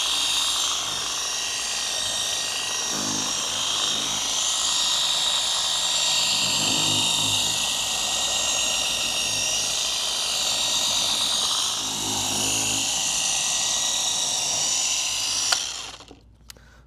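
A power polisher buffs car headlights under firm downward pressure, whirring with a steady high-pitched motor drone, its tone swelling slightly in a few rhythmic passes before it cuts off abruptly.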